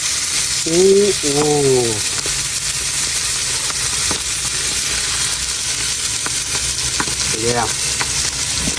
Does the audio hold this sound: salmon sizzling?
yes